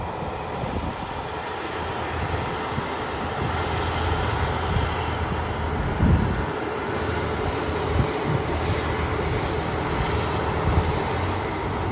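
Cat bulldozer working a pond's back slope, smoothing dirt, its diesel engine rumbling continuously at a moderate distance with a few louder surges.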